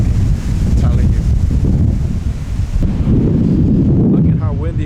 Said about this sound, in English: Look at how windy it is out here.